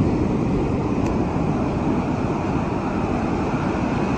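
Heavy surf from Tropical Storm Karen surges ashore as a constant, loud roar of breaking water mixed with wind buffeting the microphone, with no voices.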